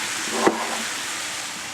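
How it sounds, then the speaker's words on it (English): Chicken tenders sauté in a hot pan for a Thai green curry, giving a steady, loud sizzle with a brief stir or scrape near the start, no voices. "I had these chicken tenders I just cut up. I'm going to saute them"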